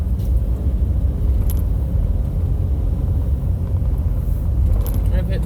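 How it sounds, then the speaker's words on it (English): Steady low rumble of car traffic on an interstate near Austin, Texas, continuous and close, likely heard from inside a moving vehicle, with faint rattles and no talk. "With all this traffic."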